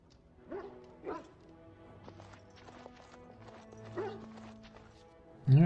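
Dog barking in the video game Dragon Age Origins, a few faint separate barks mixed with light footsteps and game ambience, ending in a sudden loud bark.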